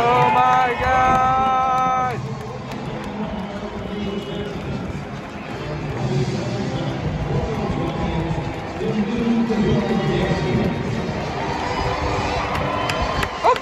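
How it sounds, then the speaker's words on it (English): Opening Day 2021 crowd at a Yankees game in a baseball stadium during the COVID-19 pandemic, a broad roar of cheering rising and falling, with a brief musical tone at the start and close voices mixed in. "You can hear the crowd going."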